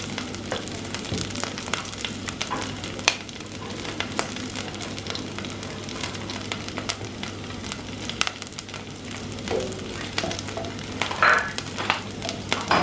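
A spice blend of jeera, curry powder, garam masala and paprika sizzling in hot oil for a vegan stewed kidney bean dish, steady close crackling with a low hum and occasional stirring clicks, no talk.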